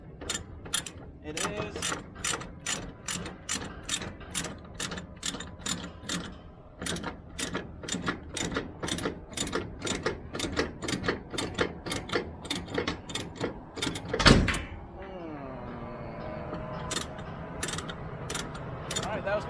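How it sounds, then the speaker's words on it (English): Ratchet chain binder being cranked tight on a flatbed load of steel I-beams: a long run of sharp, evenly spaced metallic clicks close by, a heavy clunk near the end, then steadier mechanical rattling, with a brief spoken word. "I'm going to go and tighten the second portion of my chain binder up"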